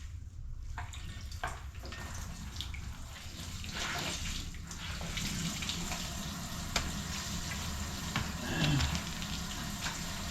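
Dishes washed under a running kitchen tap, continuous splashing water with clinks of plates and utensils, fairly close and steady, no voices.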